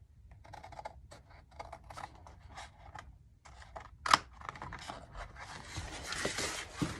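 Scissors trimming the fabric at a tote bag's box corner, a series of small crisp snips and rustles of cloth at close range, irregular and fairly quiet, ending in busier handling noise.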